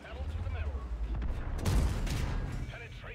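Heavy tank cannon blasts and rumbling gunfire from a World of Tanks battle featuring the STRV K, booming bursts over a continuous low roar with a voice talking through it.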